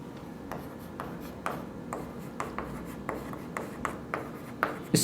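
Chalk or marker writing on a classroom board during a physics lesson on magnetic hysteresis, heard as soft repeated scratchy strokes and taps at a steady, irregular rhythm, close and fairly quiet with no talking.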